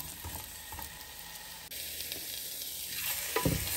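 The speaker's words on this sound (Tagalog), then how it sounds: "Isama na rin natin ang sibuyas. Igisa niyo siya, guys." Onions sautéing in a pan, a close, steady sizzle with scraping stir strokes, rising to a louder burst of frying near the end, no voices.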